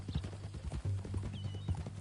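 Horse hooves clip-clop in a video game, a steady walking rhythm of soft close hoof strikes with a faint whinny-like tone, under quiet background sound.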